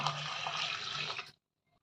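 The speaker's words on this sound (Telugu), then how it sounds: "1 గ్లాసు వాటర్ వేసుకోవాలి" A glass of water pours steadily into a pot of moong dal with crushed ginger for just over a second, a full splashing stream that cuts off abruptly, followed by faint clinks.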